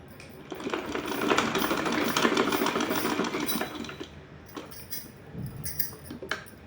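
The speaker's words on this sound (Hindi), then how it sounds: "तो इसको इस तरह से रख करके इसके ऊपर मैं सिलाई लगाऊंगी।" A sewing machine stitches lace onto fabric, a rapid mechanical chatter in one burst lasting several seconds, then a pause and a shorter run with handling clicks, close by.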